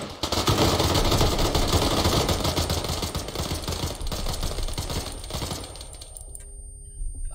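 A full magazine dump of rapid gunfire rattles out as one continuous, loud, close stream of shots lasting several seconds, then cuts off abruptly.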